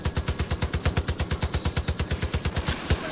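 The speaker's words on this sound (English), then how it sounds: "Just gunning down zombies sounds really cool." Sustained automatic weapon fire against zombies in Far Cry 5, roughly two dozen loud, tightly spaced shots hammering in an unbroken rhythm for the full stretch.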